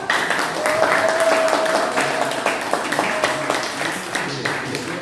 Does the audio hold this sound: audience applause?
yes